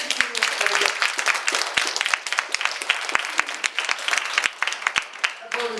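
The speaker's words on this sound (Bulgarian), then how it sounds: "Моля ви да посрещнете с ръкопляскания" Sustained audience applause at the opening event of a women's club, welcoming someone speaker to the stage, with dense steady clapping filling the room and a few sharper claps standing out throughout.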